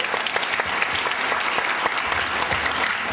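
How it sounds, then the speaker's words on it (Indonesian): An audience applauds Pak Harto at a religious dhikr gathering, with steady dense clapping throughout, loud and close, no voices on top. "Tepuk tangan untuk Pak Harto."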